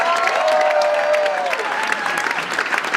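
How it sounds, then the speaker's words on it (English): Audience applause fills a live business launch event in the UK, a steady wash of clapping from a large crowd with a sustained tone running beneath it. "A huge round of applause for Taryn Cox."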